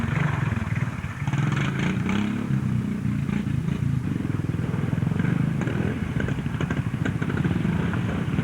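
A vintage Enfield trials motorcycle at a Scottish pre-65 trial runs past with a steady rough engine drone and some clatter, moderately close throughout.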